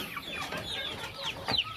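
Chickens on a farm in Bohol cluck and squawk in a busy flock, several birds calling over one another at moderate distance, with no talk over them.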